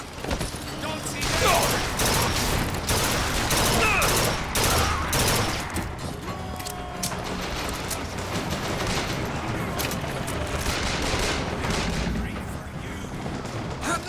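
Rapid bursts of gunfire from Bioshock Infinite crackle in dense volleys, followed by sparser shots and mechanical clicks, loud and close under occasional game sounds.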